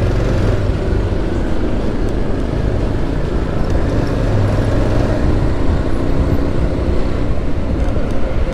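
Busy road traffic rumbles at an intersection in Halishahar, Chattogram. Cars, buses and trucks make a loud, continuous drone that is close and unbroken, with no distinct horns standing out.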